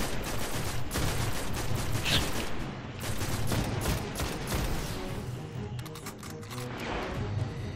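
Dense, continuous gunfire from the shooter Destiny, rapid overlapping shots and booms filling the whole stretch at a steady loud level with no talk.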